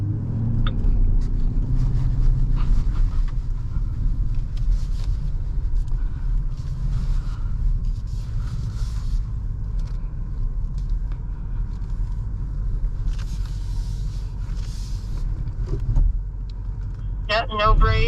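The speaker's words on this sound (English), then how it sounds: "Just letting the X5 bring you down that hill nice and easily." A BMW X5 M60i coasts downhill off-road with no brake or throttle, giving a steady low rumble of the vehicle rolling over rough ground, with faint rattles and clicks and a brief sharper noise near the end.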